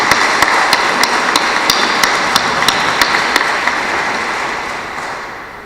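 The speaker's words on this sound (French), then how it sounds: "Alors on peut l'applaudir." Congregation applauding during a Sunday Mass in church, a sustained wash of clapping with a few sharp, evenly spaced louder claps standing out, gradually fading toward the end.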